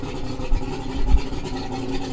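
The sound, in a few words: outboard motor running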